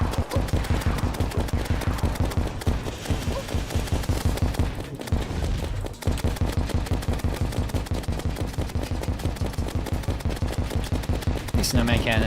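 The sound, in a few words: snowman cannon firing in a video game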